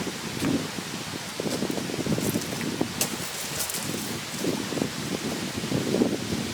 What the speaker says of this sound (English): The wind is blowing on in